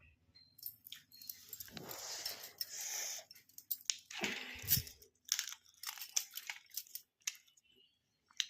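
Someone eating a meal, with close, irregular crunching and chewing sounds coming in bursts and separated by short quiet gaps.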